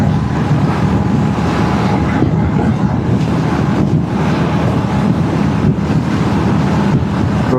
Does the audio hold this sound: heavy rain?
no